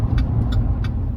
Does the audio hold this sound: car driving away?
yes